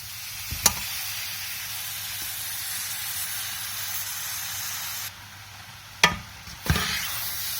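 Carrot halwa mixed with evaporated milk fries on high heat, a steady soft sizzle with a few sharp scraping stirs, a brief lull, then more stirring clatter near the end.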